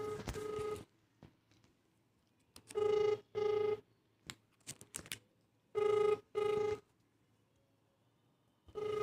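A phone rings in repeated double bursts through a handset, each ring pattern recurring with gaps of quiet and small clicks in between, nobody answering.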